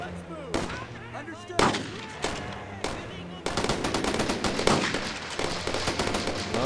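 Heavy suppressing gunfire in the video game Brothers In Arms: Road to Hill 30 with warzone mods: bursts of machine-gun and rifle shots with loud booming blasts, then a dense, sustained barrage, with voices shouting amid the battle.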